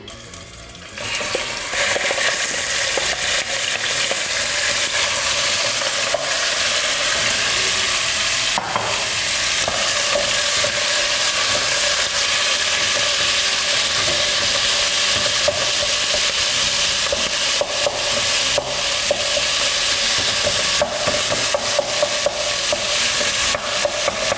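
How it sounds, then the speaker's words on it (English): Minced keema frying in hot oil in a pan, a loud, dense, continuous sizzle with steady crackling and occasional stirring scrapes, no voices. "now I'm going to put my keema and then we're going to just fry it, like cook it a bit, actually fully"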